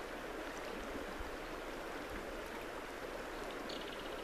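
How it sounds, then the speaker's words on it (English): River water flows steadily near Sedona, Arizona, a continuous soft rushing and burbling with no voices. "Just hear the water and let it take you to the quiet."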